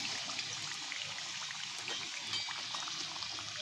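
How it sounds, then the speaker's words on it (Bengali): Pea-stuffed kochuri frying in hot oil in a karai, a steady, soft bubbling hiss of the oil that continues evenly throughout with no pauses and no talking. "এপিট ওপিট আমি একটু লাল লাল করে ভেজে নিচ্ছি"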